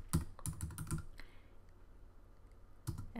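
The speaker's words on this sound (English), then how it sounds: "Let's start typing in Twitter." Typing on a computer keyboard with a burst of quick, close keystrokes, a pause, then a few more clicks at the end, with no one speaking.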